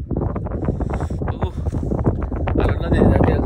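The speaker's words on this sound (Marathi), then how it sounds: "या साईडला वारा भरपूर आहे." Strong wind buffets a phone microphone outdoors beside a river, producing loud, continuous rumbling gusts while a person talks close by.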